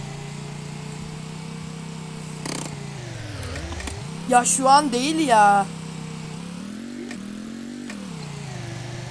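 In the video game Dusty Trip, a vehicle engine hums as a steady, droning tone that dips and recovers in pitch, while players talk and exclaim over it.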